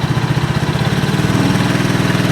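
A Honda TRX 125 ATV engine runs loud and close, with a fast, even putter that climbs slightly as the throttle opens.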